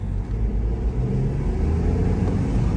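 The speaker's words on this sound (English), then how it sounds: "I'm gonna turn the AC down for quite a moment here so you can hear the engine." A 2014 Mini Cooper engine accelerating on the road with the window down, a steady loud low rumble and mid-range engine drone filling the whole stretch alone.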